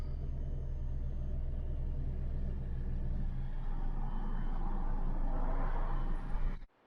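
A Volvo V50 T5 automatic sits in park with its engine running, giving a low, steady rumble close by. Partway through the tone shifts slightly, and it ends with an abrupt cutoff and a brief thump.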